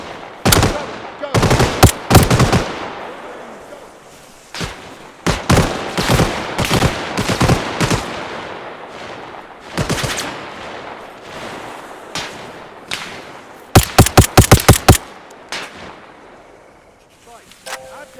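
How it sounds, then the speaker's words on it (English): Gunfire in the ARMA Reforger military video game during an AI-versus-AI airport assault: repeated bursts of automatic fire and single loud shots, some near and some distant, spread across the whole stretch. "I'm taking fire."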